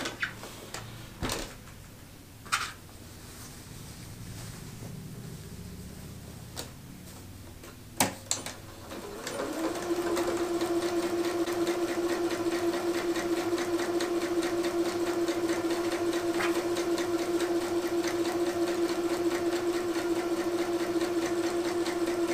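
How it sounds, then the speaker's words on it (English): Sewing machine stitching from end to end along a tablecloth edge made to fit a card table, back-stitching at each end. Scattered handling clicks and knocks come first, then a loud, steady motor hum runs alone to the end. "we're going to stitch from end to end using a back stitch at each end"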